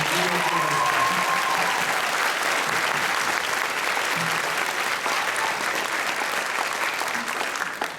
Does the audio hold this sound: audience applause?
yes